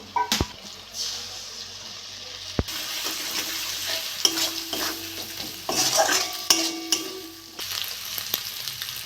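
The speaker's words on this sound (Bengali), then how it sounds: "আমি একটা ডিম নিয়েছি ডিমটা ফাটিয়ে দিয়ে দেবো" Egg cracked into a pan of sautéed tomatoes and vegetables for flour chow mein, frying and being stirred: steady sizzle with repeated scraping clinks of a utensil against the pan, close and moderately loud, no talk.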